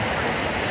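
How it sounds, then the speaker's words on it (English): Waterfall at Volcano Bay water park, a steady broadband rush of falling water filling the scene at close range with no breaks. "And that waterfall looks pretty sweet."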